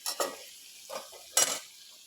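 Fish frying in a pan gives soft hissing sizzle with a few scraping stirs and clinks of a utensil, close and moderately quiet, no voices.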